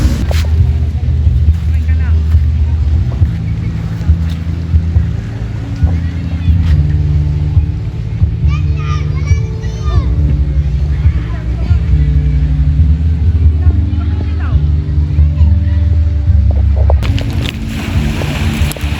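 A motorboat carries children out on the water in the Philippine countryside, its engine a steady, loud low drone throughout, with voices talking over it.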